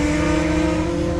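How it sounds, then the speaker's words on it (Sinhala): A motorbike roars past close by with a loud, steady engine drone and strong tonal hum that stays even over the short stretch. "බයික් එකක් යනවා ගණන් ගන්න එපා."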